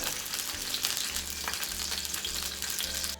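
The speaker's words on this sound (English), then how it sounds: "we're going to add our extra sausage here to the pan and let it brown" Sausage browning in a frying pan for a sauerkraut and sausage dish, giving a steady, close, dense sizzle with a low hum underneath and no talking.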